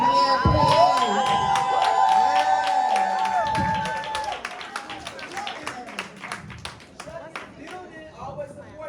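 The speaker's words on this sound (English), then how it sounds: "Can we give Keisha a really big round of applause again, please?" An audience at a brunch event claps and cheers for a woman, with bright whistle-like shouts and voices over loud, fairly close applause that gradually thins out.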